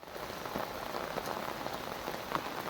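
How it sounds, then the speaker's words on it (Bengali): Heavy rain pours steadily onto a garden during a family thread ceremony, a dense even hiss of drops close by with no voices. "এখনও বৃষ্টি চলছে।"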